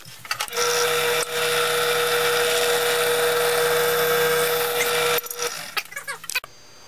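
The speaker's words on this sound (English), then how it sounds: "Okay, now we got that drilled." A power drill whirs loudly and continuously for about five seconds, pausing briefly once, then stops, followed by a few clicks and handling noises.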